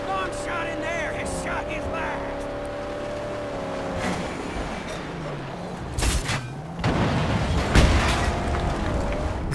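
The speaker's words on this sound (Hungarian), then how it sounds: "Valaki dobál valami rakétával, mi?" Rocket explosions in the Mad Max video game, heavy booms bursting in twice over steady engine drone and in-game noise, loud and close, with people talking around them.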